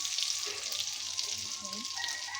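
Three eggs poured into a hot pan to fry for a spicy fried-egg dish, giving a steady close sizzle and crackle of frying oil with faint stirring or scraping underneath.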